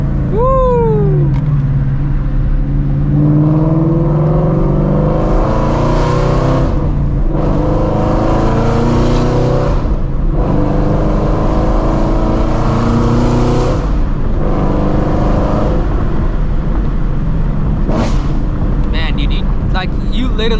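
A loud Shelby GT350 Mustang on 19-inch wheels revs hard while driving, its engine rising and falling in repeated surges heard close from inside, with a voice talking over it between pulls.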